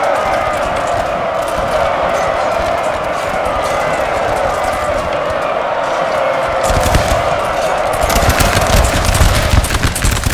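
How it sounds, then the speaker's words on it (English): Musket volleys crackling across a Napoleon: Total War battle between Russian and French lines, a constant rattling roar of massed gunfire that swells louder toward the end over a steady battlefield din. "The Russians getting a devastating volley into the French"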